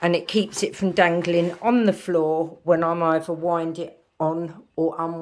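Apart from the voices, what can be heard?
No everyday noise stands out behind the speech.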